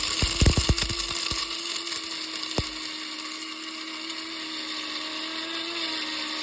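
An electric grinder whirs at a high, steady pitch as coarse salt crystals are ground fine, with a burst of rattling, crackling crunches at the start that fade into a smooth motor drone.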